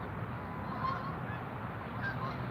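Geese honking in a few faint, scattered calls over a steady outdoor background hiss, during a trout fishing trip.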